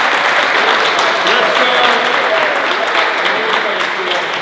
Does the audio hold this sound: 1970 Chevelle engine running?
no